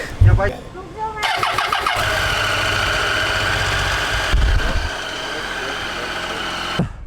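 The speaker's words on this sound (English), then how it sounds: "Let's start the bike." A motorcycle on a cold mountain ride is cranked and fires up, its engine catching quickly and settling into a loud, steady idle close by, with a brief revving bump midway and a voice heard near the start.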